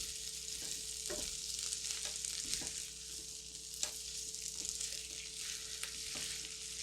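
Sausage and potatoes sizzle in a pot, a soft steady frying hiss over a low hum, with regular knocks and scrapes as a utensil stirs them.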